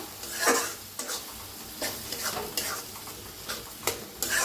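Cauliflower and potato curry in a yogurt gravy is stirred in a pan over low heat, giving repeated scraping spatula strokes over a soft, close sizzle.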